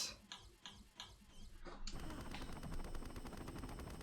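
Gunfire in Tomb Raider: The Angel of Darkness, first a few separate sharp shots, then a dense, continuous burst of rapid fire that keeps going to the end.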